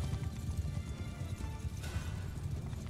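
Massed horses charge in Mount & Blade II: Bannerlord, a dense, steady low rumble of many hooves with clip-clop texture and the occasional whinny running for about three seconds.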